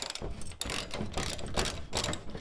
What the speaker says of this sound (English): with a ratchet on it and an extension